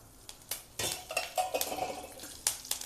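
Dal, dried chillies, coriander and curry leaves roasting in a pan, close scraping and stirring clatter of a spoon against metal with faint crackle, no voices.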